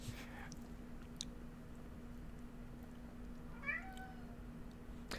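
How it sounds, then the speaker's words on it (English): A single cat gives a brief, faint meow at a distance, partway through an otherwise quiet stretch. A low electrical hum and room noise sit beneath it, with a few soft clicks. "There was a meow"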